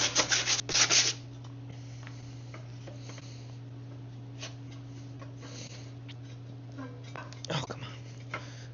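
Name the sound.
rubbing rust off snow blower part with sandpaper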